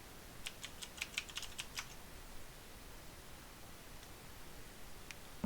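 Quiet, close typing on a computer keyboard, a quick cluster of light key clicks in the first two seconds followed by mostly faint background hiss and a couple of isolated taps.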